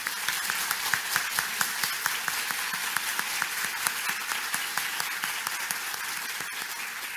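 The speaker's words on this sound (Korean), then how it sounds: "여러분 뜨거운 박수로 다시 환영해 주시기 바랍니다." Audience applause welcoming a lecturer to the stage at a public lecture, sustained and fairly distant with distinct individual claps standing out from the steady crowd clapping.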